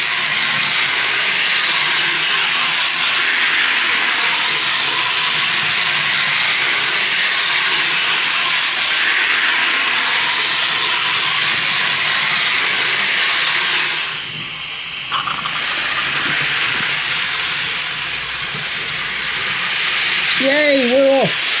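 An HO scale 1/87 live steam model train runs with a continuous hiss and a fine, steady mechanical chatter, briefly dipping midway before resuming, with a few faint tonal squeaks near the end.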